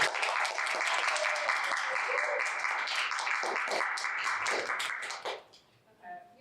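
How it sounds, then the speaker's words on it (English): A small indoor audience at a library hot-wings challenge event claps and cheers in a lively round of applause lasting several seconds before it tapers off and a voice speaks. "Can we give her like a round of applause?"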